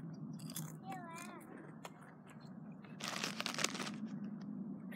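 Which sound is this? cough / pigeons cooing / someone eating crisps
someone eating crisps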